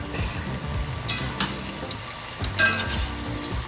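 Spoon stirring a seven-spice Moroccan pork and potato dish in a sizzling pan, continuous frying crackle with scraping stir strokes, close and without talk.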